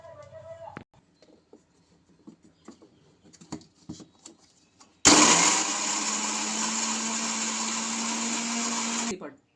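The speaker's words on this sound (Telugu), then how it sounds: "అన్నీ కలిపి మిక్సీ పట్టుకుంటే ఇలాగైతే వస్తుందండి" A mixie jar grinding chopped coconut pieces for an egg fry masala, starting abruptly after faint kitchen clatter and running as a loud, steady high whine for several seconds before cutting off.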